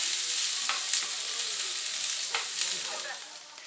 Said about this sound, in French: Et on va faire revenir un petit peu tout ça.